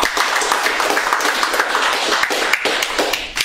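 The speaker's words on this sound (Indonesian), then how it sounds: "Tepuk tangan dulu tuh ya." A crowd at a film promotion event for the movie "Believe" breaks into loud, dense clapping that holds steady throughout, close and continuous.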